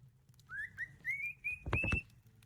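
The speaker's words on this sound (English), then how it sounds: "is this bird gonna sing like?" A bird in the video game Pathologic sings a rising series of short whistled notes, repeated several times and fairly faint, with a couple of low thumps near the end.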